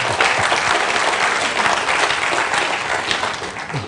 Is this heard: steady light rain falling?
no